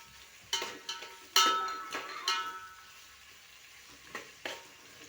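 Rice frying in a pan, quiet background sizzling broken by several sharp metallic scrapes and clinks of a utensil stirring against the pan, spaced irregularly.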